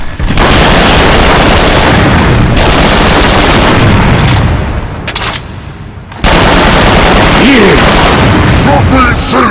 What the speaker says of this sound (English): And I have a basic pistol.